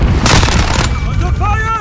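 Gunfire in the Call of Duty: Modern Warfare gunfight mode, a loud, close burst of booming shots followed by ringing tonal game effects, with voices calling out over it.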